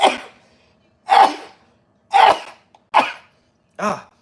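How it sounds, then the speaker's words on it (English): Five sharp, explosive sneezes up close, each a sudden loud burst followed by a short pause before the next. "When I sneeze, it's always 3 or more."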